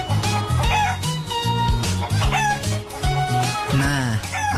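A chicken crows loudly and repeatedly, close by, with clucking from other fowl mixed in.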